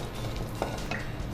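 Chillies dropped into a hot tempering in a pan, with a low steady sizzle and a few brief scrapes of stirring, heard alone at moderate level.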